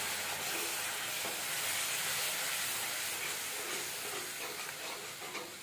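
Chana dal tadka masala frying in a pan just after a little water is added, giving a steady loud sizzle and steamy hiss that runs without a break and eases slightly toward the end.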